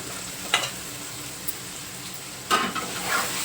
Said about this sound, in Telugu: ఇప్పుడు ఇవి కూడా కాసేపు నూనెలో ఫ్రై చేసుకోవాలి